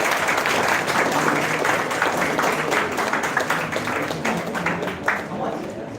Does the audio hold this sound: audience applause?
yes